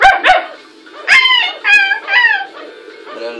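Cartoon dog barking in a Tintin adventure video game, several short yapping barks in quick bursts, fairly loud and close, with game sounds around them.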